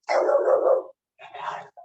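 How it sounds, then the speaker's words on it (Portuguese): A pet dog barks nearby at home: one long, loud bark or yelp, then after a short gap a second, shorter bark and the start of another, with no talk over it. "Calma, calma, minha cachorra."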